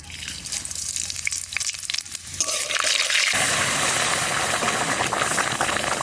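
Dal seasoned with mustard oil and five-spice bubbles vigorously in a pot, a dense continuous hiss and burble that grows louder partway through and carries on steadily close by.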